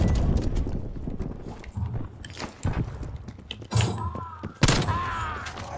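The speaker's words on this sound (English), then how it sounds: "Your footsteps are way too loud," Heavy, loud footsteps from a soldier character in Black Ops Cold War thud and clomp close by in an uneven rhythm, mixed with other game thumps and bursts of noise.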